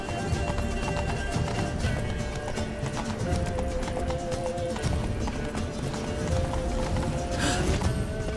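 Roach, the horse from The Witcher 3, gallops with rapid rhythmic hoofbeats, loud and near, over a busy game soundscape with a brief whinny-like accent near the end.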